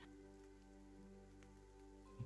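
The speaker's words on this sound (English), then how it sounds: "you start hearing rain pattering on the top of the observatory" Faint, steady rain pattering on an observatory roof, a soft continuous wash under a low tonal hum, with no voices.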